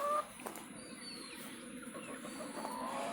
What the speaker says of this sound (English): yeah, I think that one's a rooster right there.